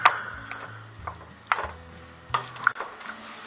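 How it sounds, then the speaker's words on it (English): Ground hamburger and onions stirred in a pot for chili, with a few sharp scraping clatters of the spoon against the pot over a soft background. "dump your hamburger and your onions right into it. And give it a stir."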